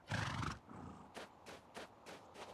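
A horse in a video game gives a loud whinny at the start, followed by a run of sharp, evenly spaced hoof clops that carry on to the end, with no talking.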